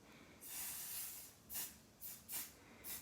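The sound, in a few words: spraying glue onto an embroidery hoop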